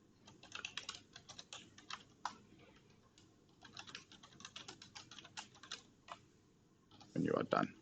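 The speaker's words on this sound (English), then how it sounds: "let's just start typing out" Typing on a computer keyboard, with bursts of rapid clicks in uneven runs and short pauses between them. A loud clatter comes at the end.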